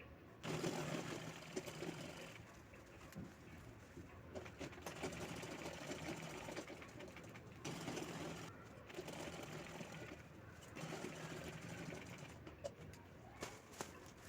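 A sewing machine top-stitches a handbag made from a saree, running in steady close-up bursts with short pauses between seams, and faint bird cooing in the background.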